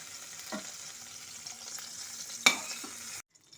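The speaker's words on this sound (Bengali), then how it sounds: "চিংড়ি মাছ বেশি ভাজলে পরে রাবারের মতো খেতে লাগে। সেই জন্য হালকা করে আমি একটু ভেজে নেব।" Shrimp frying lightly in oil in a pan, a steady soft sizzle running throughout with a few faint utensil taps and a brief sharper clatter near the end, then stopping abruptly.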